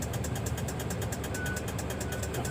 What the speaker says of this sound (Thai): ต้องให้รถไถ เคลียร์พื้นที่เหมือนเดิมนะครับ